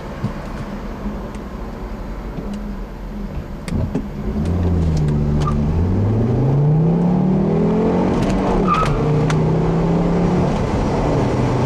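A 2007 Volvo C70 with a six-speed manual gearbox hums and whirs, then the pitch climbs and drops as the driver accelerates through gear changes, loud and close from inside the cabin.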